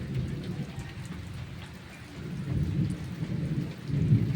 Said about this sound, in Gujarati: જો સાંભળો, વરસાદ તોફાની વરસાદ છે,